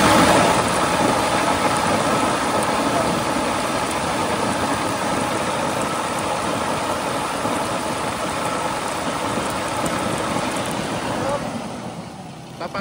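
A Ford Everest 2.2 diesel engine running at steady high revs, struggling around 2,000 rpm with a sticking turbo actuator, a loud continuous roar that holds evenly and eases off near the end.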